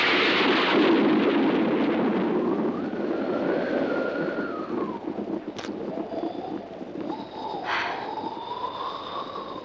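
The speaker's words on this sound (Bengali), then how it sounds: "বাইরে ঝোড়ো বাতাস" Stormy wind roars loud and steady at first, then eases into gusting, whistling air with a couple of brief cracks, a thunder-and-wind storm sound effect from a film scene, with no voices.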